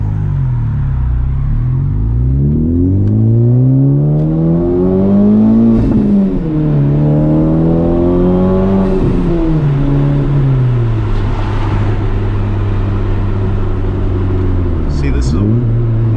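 A car engine revs sharply during a rev-matched downshift while driving, rising and falling in pitch, loud and close inside the cabin, with a steady road rumble underneath.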